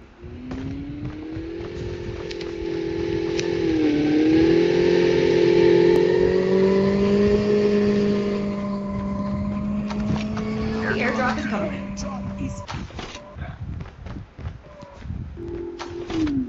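A motorcycle engine in a video game revs and drones steadily, its pitch rising and dipping, while players talk over it throughout.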